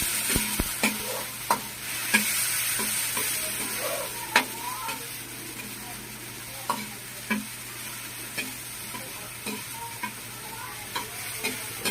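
Chopped tomatoes frying in a pan for bagoong na isda, a steady low sizzle under repeated scraping taps of a stirring utensil, close and moderately quiet.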